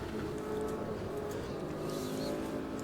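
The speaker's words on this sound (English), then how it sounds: "flat 12 alpha engine in the Brabham's supposed to produce about 40 horsepower more and have a load more torque" The flat-12 Alfa engine of a Brabham race car in the Automobilista 2 racing game drones steadily, a sustained, even engine tone held at moderate volume with no talk over it.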